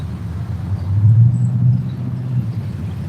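Low engine rumble of a Chevrolet Nova on 20-inch rims passing at a distance, swelling to a peak and then fading, steady and deep with no talking.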